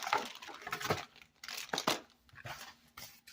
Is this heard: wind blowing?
no